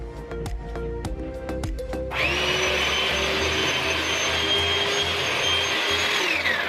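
An electric mixer beats icing with vanilla extract for a cinnamon swirl bundt coffee cake, starting after a few light clatters and then whirring loud and steady, close up, until it winds down at the end.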